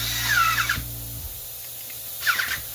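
A power tool tightening a hose clamp on a 4L60E transmission pump, two short whirring bursts with a rising squeal, close and loud, separated by a quiet pause.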